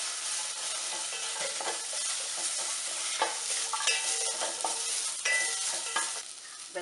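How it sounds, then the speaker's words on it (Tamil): Tomato and okra sauté in hot oil for sambar, a steady sizzle with repeated scraping and clinking strokes of a stirring spoon against the pan, close and alone. "நல்லா வதக்கிக்கலாம். தக்காளி, 1 தக்காளி போட்டிருக்கேன். வெண்டைக்காயை போட்டுக்கலாம்."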